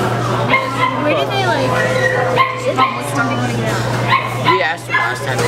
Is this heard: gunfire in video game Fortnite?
no